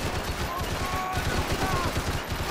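Gunfire from the video game Max Payne 3 on a shooting course, a dense, steady fusillade of rapid shots lasting the whole short stretch, fairly loud and close.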